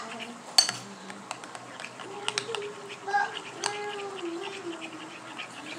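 Avocado and corn salsa being mixed in a bowl: scattered light clinks and taps of a utensil against the bowl, close by, with faint vocal or cat-like sounds in the background.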